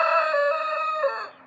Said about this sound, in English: Pardon that rooster.